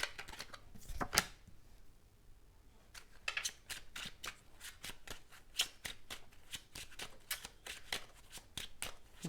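Tarot cards are shuffled in close, quiet bursts of rapid riffling clicks, one sharp flurry early, a short pause, then a long run of quick repeated card flicks.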